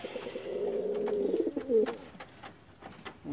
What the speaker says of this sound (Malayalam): ഒരുപാട് പ്രാവുണ്ട്, എനിക്കതിൻ്റെ പേരൊന്നും അറിയില്ല.